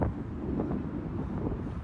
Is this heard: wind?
yes